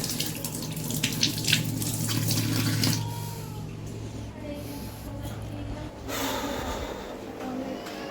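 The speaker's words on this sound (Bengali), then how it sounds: "অবশ্যই চামচ নেওয়ার পর চামচটা ধুতে তো অবশ্যই হবে" Tap water runs steadily into a sink while a spoon is washed, a continuous close splashing stream with brief clinks and shifts in the flow.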